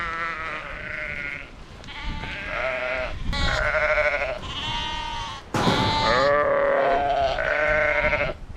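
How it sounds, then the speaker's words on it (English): Sheep at a farm bleat again and again at close range, loud wavering cries overlapping one another in quick succession with barely a pause, and no talk over them. "I hate sheep."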